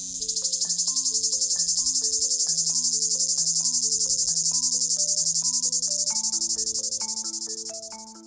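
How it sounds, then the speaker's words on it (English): Cicadas buzz in a dense, steady high-pitched drone that stays loud throughout, with a simple melodic tune playing underneath. "Cicadas are insects best known for the buzzing or chirping sounds they make on warm days."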